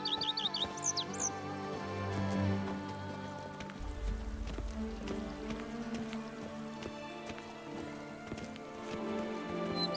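A horse gallops in The Witcher 3: Wild Hunt, its hooves making a soft, rhythmic clip-clop under game music and ambient tones, with a chirping bird heard early on.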